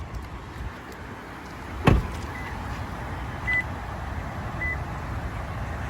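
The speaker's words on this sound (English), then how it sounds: "We'll also roll down the automatic rear window" The automatic rear window of a 2015 Toyota 4Runner Limited rolls down with a faint steady motor whir, preceded by a sharp click and followed by a few soft beeps.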